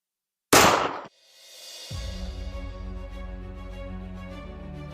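A 30-grain varmint bullet in 5.7x28mm is fired from an AR-57 into a pineapple: one sharp, loud, close shot bursts and cuts off abruptly, followed by a faint reverberant tail and then a steady low hum.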